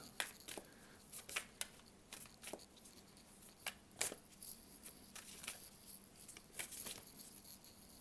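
Tarot cards shuffled by hand make faint, quick papery riffles and taps in uneven bursts against a quiet room, with no talk.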